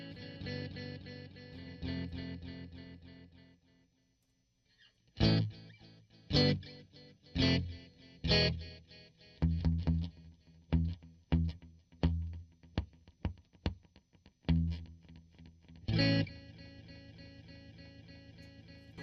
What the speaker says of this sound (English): So the more you turn up the mix on the delay, the more of the delay sound you're going to hear versus the dry signal.